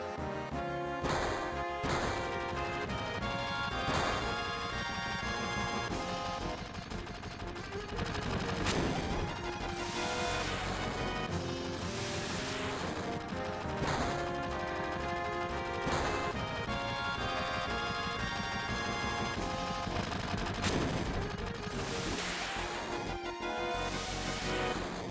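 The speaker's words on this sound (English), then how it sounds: "Gunfire?" Gunfire breaks out overhead in the Final Fantasy VII game, loud repeated shots and crashing impacts scattered over a continuous musical score that runs throughout.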